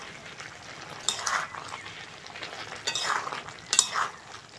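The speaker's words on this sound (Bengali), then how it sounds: "একটু ঘেটে ঘেটে দেবো" A spoon scrapes and clinks in a pot of shrimp curry with eggplant, potato and Malabar spinach stems, giving a few soft stirring strokes and metallic chinks against quiet background sizzle.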